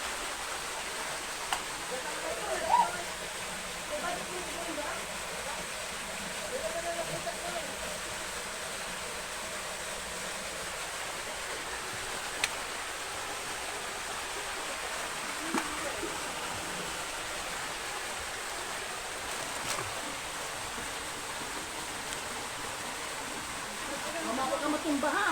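Water rushes steadily at San Sebastian waterfall, a continuous broadband roar that holds an even level throughout with only a few small ticks above it.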